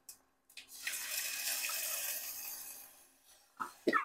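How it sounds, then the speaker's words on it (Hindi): Half a cup of water poured into a pan while making fasting-style dhokla from samak rice, a steady splashing pour lasting about three seconds, close and alone, ending with a couple of clinks. "डाल दी हूँ ये 1/2 कप पानी"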